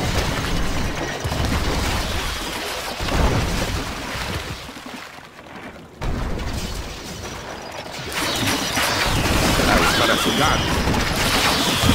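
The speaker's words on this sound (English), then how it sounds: "Mount up to horse!" Horse whinnies in the strategy game Stronghold Crusader HD, set against a dense, continuous mix of clanking mechanical game noise and ambience that runs loud through the whole stretch.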